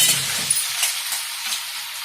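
Cucumber pieces fry in a pan with a bright, close sizzle, and a spoon clinks lightly while stirring, all over about two seconds.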